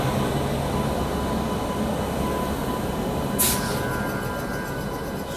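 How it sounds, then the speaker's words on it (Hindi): Steady, loud rumble and clatter of a train rolling along railway tracks near a twin diesel special train, continuous and close, with a brief high squeal partway through. "तो ये कोई ट्रेन थी"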